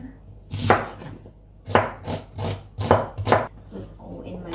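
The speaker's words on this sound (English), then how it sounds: "Now I'll cut the onion" An onion is chopped on a board with a knife in quick bursts of sharp, close chops, separated by brief pauses; no speech.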